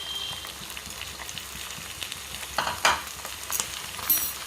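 Prawns dropped into hot oil with onions and ginger-garlic paste, a steady close sizzle with stirring clatter and a couple of louder bursts near the end, no talking.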